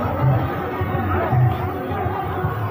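Crowd chatter at an Urs fair market beside a mosque in Lalitpur: a dense babble of many voices close and far, steady and moderately loud, with no single voice standing out.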